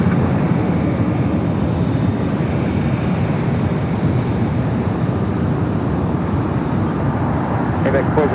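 A jet airliner taking off from runway 25 right at Los Angeles International Airport, a steady, loud broadband engine roar that holds constant throughout with no pauses.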